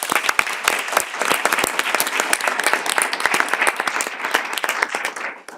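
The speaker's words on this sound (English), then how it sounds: "and perhaps a round of applause for that," A workshop audience claps in steady, dense applause at an ACT EU event, with many hands beating close together throughout, fairly loud and without any talking over it.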